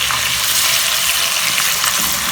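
Peeled tomatoes hit a hot pan of frying ginger and garlic for dhaba-style chana daal, producing a loud, continuous sizzle with constant crackling close up and no talking.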